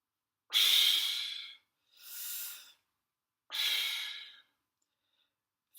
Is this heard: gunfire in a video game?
no